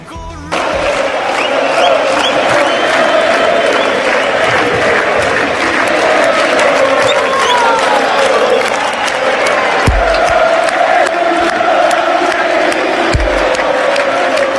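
A large concert crowd applauds and cheers steadily as a band walks on stage, a dense roar of clapping and shouts that holds throughout with a couple of sharp thumps near the end.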